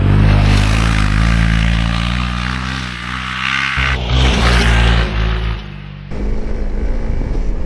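A Honda CRF300L dirt bike fitted with a rally fairing drifts on a dirt track. The engine revs loudly and close, then drops to a rougher, gravelly roar as the rear wheel slides.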